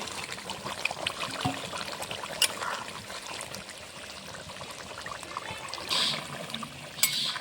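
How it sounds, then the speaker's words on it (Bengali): Mixed mutton oil poured into a cooking pot of mutton kosha makes a soft, continuous trickling, wet pour, with a few brighter splashes and clinks along the way. "মাটনের তেলটা মিশিয়ে রেখেছিলাম, দিয়ে দেবো এখন"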